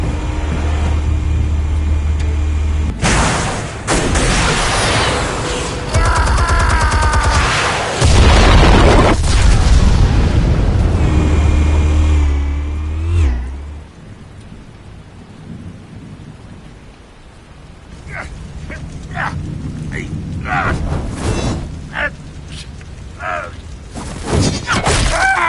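Explosives detonate in a PS4 video game, heavy booming blasts with rumbling crackle for the first half, then a quieter stretch with scattered sharp bursts and faint voices near the end.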